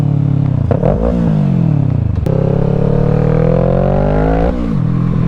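A motorcycle engine revs hard for a wheelie on a winter ride in Spokane, climbing in pitch with a couple of sharp throttle blips before holding a long loud rising drone near the listener, and no voices.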